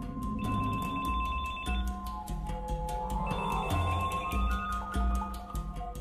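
Phones ringing at once as news comes in, overlapping electronic telephone bells and ringtones trilling continuously in a busy, dense chorus, loud and close.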